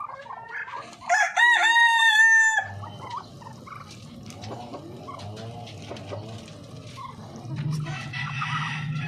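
A large breeder rooster crows loudly and close, a long drawn-out call, followed by chickens clucking and murmuring in the background of a poultry yard.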